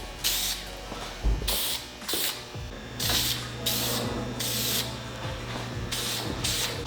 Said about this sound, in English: I'm gonna be using, again, vinyl and fabric spray.